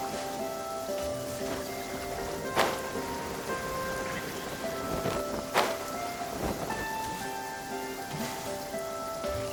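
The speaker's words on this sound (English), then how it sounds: "Taking shelter and listening to the rain cleanse the earth makes me feel safe." Steady rain falling in the game Genshin Impact, a dense continuous patter running throughout at even loudness, with a few sharper splashes and faint tonal music lines underneath.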